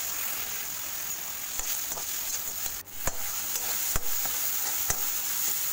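Chopped tomato cooks in a pan with spluttered mustard seeds for sambar, a steady soft sizzle with a few faint clicks of stirring, no talking.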